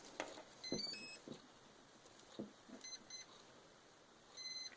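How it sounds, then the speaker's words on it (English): Several short high-pitched electronic beeps from a racing drone as its battery is plugged in sound in quick groups, fairly faint, with soft knocks and handling noise in between. "as you can see, it beeps and stuff"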